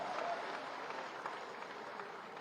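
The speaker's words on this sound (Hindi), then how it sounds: "एक जोरदार ताली बजा दीजिए" Steady applause from an audience at a BJP political rally in Uttar Pradesh, a dense wash of many hands clapping at moderate level with a faint murmur of voices mixed in, continuing evenly for the whole stretch.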